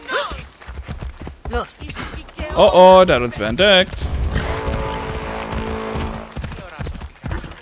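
Horse hooves clip-clopping in the video game Assassin's Creed Odyssey, joined by a loud whinny partway through, with rhythmic hoofbeats continuing afterward; someone talks over the opening and the gallop.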